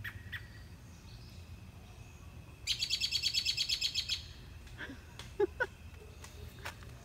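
Outdoors by a front porch and mailbox, a nearby bird lets out a rapid burst of bright chirps, followed by a few scattered softer calls over quiet background.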